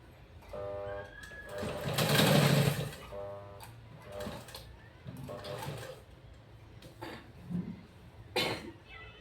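A sewing machine stitches a blouse slowly in short runs of rapid mechanical whirring, separated by pauses, with a voice talking in between and some coughing or handling noise.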